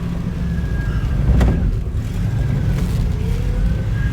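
A 1971 Saab station wagon pulls away from inside the cabin, its small engine droning steadily and rising gently with a couple of soft clunks, with no talk.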